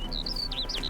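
Bird chirps in The Witcher 3: Hearts of Stone, a quick series of high, clear tweets, close and fairly faint, over a low steady background hum.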